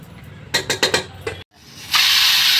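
A pressure cooker cooking gongura mutton lets out a loud, sustained steam whistle after a few sharp clattering knocks and a brief pause, the hiss continuing strongly to the end.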